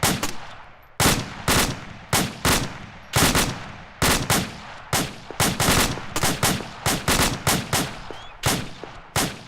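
Rapid volleys of gunfire at a shooting drill after a fire order, loud sharp shots repeating in irregular bursts through the whole stretch, with no talk over them.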